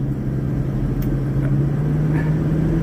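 A car cruising on a highway, a loud continuous engine drone and road rumble with a steady low hum throughout, heard from inside the vehicle with no talk.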